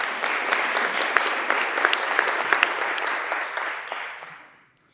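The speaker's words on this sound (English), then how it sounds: "Let's give our panelists a round of applause" An audience at a maternal health economics panel gives the panelists a round of brisk, sustained applause that holds steady and then tapers off into silence.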